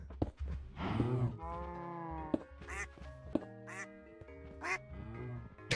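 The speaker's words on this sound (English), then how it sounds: "I'm actually gonna maim these ducks." Ducks in a video game quack in a series of nasal, honking calls, several close and distinct with short gaps between them, alone without talk.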